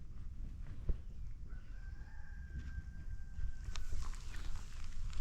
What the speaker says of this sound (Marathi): छान कोंबड्याचा आवाज येतो.